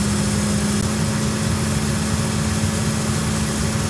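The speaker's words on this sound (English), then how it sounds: "we'll turn this blower back up to 5" The burner blower fan on an autoclave boiler roars in a constant, loud, even hum with a steady low tone, heard alone and close up without pause.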